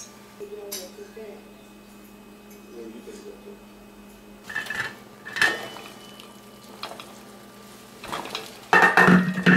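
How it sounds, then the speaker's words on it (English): Two egg cups go into a pan of boiling water for poached eggs, with a lid set on top: scattered metallic clinks and clatters of pot and lid, louder near the end, while a person talks over a low hum. "now I'm going to add my 2 egg cups, and I'm going to put the lid on"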